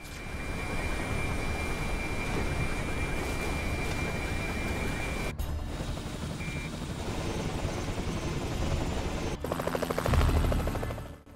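A helicopter that is about to crash in Splinter Cell: Double Agent roars with a loud, steady rotor and engine drone that is heard alone throughout. The drone breaks off briefly twice, and a heavier rumble builds near the end.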